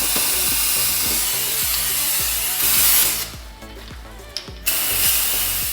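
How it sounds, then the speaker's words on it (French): A velvet spray can, its chocolate velvet warmed in hot water, sprays a steady close hiss onto a chocolate and griotte cherry entremet cake, cutting out briefly midway before resuming, over a faint repeating low thump in the background. "J'ai mis la bombe de velours dans un peu d'eau chaude, ça permet que le spray soit plus fluide"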